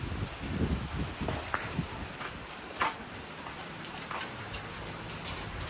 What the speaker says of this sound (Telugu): ఈ కవర్ ఎందుకు వేసారంటే వాన పడుతుంది కాబట్టి అట్లా మనకు క్లియర్గా అనిపిస్తలేదు.